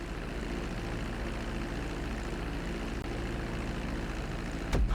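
An airplane taxis along a runway in the video game GTA V, its propeller engine droning steadily at close range with a constant, even hum, a brief sharp knock near the end.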